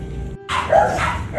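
Two-month-old micro exotic bully puppies bark and yip close by in short bursts outdoors, with a brief quiet gap before a louder run of barking.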